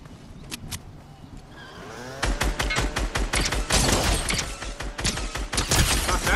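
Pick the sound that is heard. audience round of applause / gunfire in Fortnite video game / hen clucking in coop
gunfire in Fortnite video game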